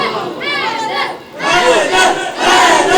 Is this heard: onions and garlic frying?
no